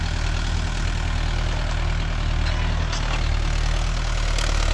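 A Mahindra Yuvo Tech Plus 585 4WD shuttle-gear tractor engine runs steadily at about 1200 rpm, a loud, close, continuous diesel drone with a low throb, no talk.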